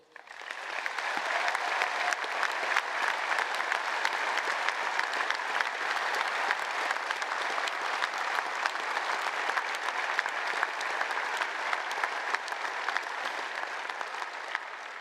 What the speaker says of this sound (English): graduates and guests, please applaud